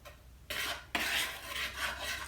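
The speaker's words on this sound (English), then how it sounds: "I'm going to take my whisk and I'm just going to whisk all the dry ingredients together." Dry ingredients for beer bread being whisked in a bowl: two quick scraping, rasping bursts of wire against the bowl, close and fairly quiet, with no talking.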